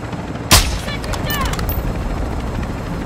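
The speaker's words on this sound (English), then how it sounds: "I had to shoot at the sentry." A single loud gunshot in a helicopter combat video game, fired at a sentry, followed by whirring aircraft and rotor noise with chirping electronic tones, over a steady mechanical drone.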